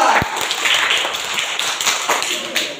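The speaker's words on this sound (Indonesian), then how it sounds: "Semua tepuk tangan untuk kelompok 2." A classroom of students claps for a group, a brisk, fairly loud patter of many hands starting with a sharp tap and continuing unevenly, with some voices mixed in.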